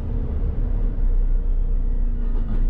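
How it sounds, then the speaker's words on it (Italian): A truck maneuvering on a road, turning around: a steady low engine rumble and traffic drone at moderate distance, continuous throughout with no talk. "vedo che c'è un camion che sta facendo manovra"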